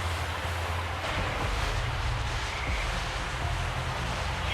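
Steady rushing water of a waterfall in the video game Keeper, a dense broadband roar that stays even and close throughout with no breaks.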